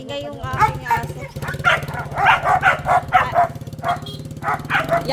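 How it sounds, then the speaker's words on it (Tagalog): A dog barks in repeated short yips and woofs over several seconds at a household birthday gathering, close and fairly loud, with people talking underneath. "Ingay yung aking aso."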